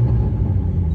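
A 1981 Toyota Corolla SR5 liftback engine runs at a steady idle, a close, low rumble with no voices over it.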